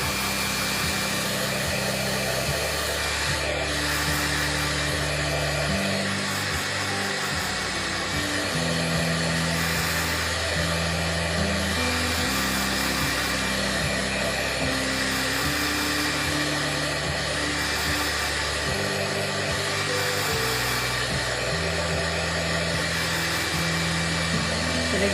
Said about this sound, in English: let me try this with the heat gun and we'll go in and burnish our glitter